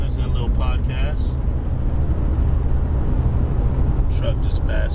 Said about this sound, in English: Truck just passed me.